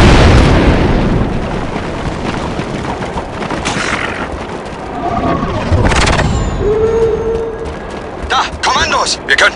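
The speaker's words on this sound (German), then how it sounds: "Achtung, Granate!" Grenade explosion in Star Wars Republic Commando, a loud broadband blast at the start decaying into rumble and battle noise, with German-speaking voices and scattered gunfire-like pops later.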